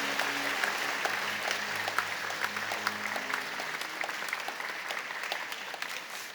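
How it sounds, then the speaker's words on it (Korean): Church congregation applauding at a Sunday worship service, sustained dense clapping from many hands filling the room at an even level. "여러분 박수로 크게 환영하시죠."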